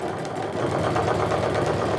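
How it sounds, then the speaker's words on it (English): A sewing machine stitching straight down the center line of a sling bag with the needle in the center position, a steady, even mechanical whir running throughout with no talking. "Now I'm going to stitch down the center line"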